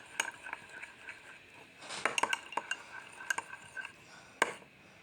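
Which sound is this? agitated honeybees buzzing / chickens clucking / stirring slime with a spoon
stirring slime with a spoon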